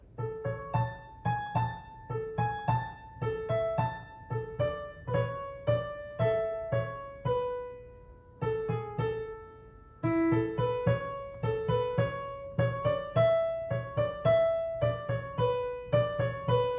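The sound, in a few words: piano melody being played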